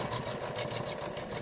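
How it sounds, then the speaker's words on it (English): A Janome 500 sewing machine runs steadily, its fast even needle rattle and motor hum continuing close and unbroken with no talking. "See how beautiful it's sewing?"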